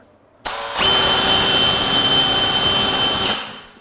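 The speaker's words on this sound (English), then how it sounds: "And then I drill in this corner and the opposite corner, so that I can just drop the jigsaw in there." Power drill boring a corner hole in wood for a jigsaw blade on a wainscot trim job: a sharp, loud whine that starts abruptly, holds steady for nearly three seconds, then winds down.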